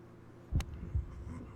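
A heartbeat effect in a golf video game thumps twice, low and muffled, a pair of soft beats about half a second apart over a faint hum.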